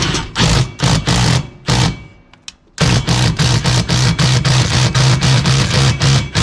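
A galvanized nut is driven onto a bolt with a power tool, sounding as a loud run of rapid rattling bursts, with a short pause partway through before the driving resumes.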